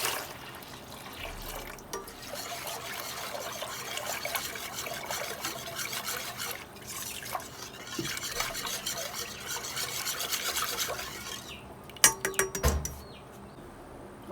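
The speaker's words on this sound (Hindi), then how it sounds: "अब इसमें मैं 1 जग भर के पानी डाल दूंगी।" A jug of water poured into whisked kadhi batter, a soft continuous trickle and splash running for several seconds, with a few sharper clinks near the end.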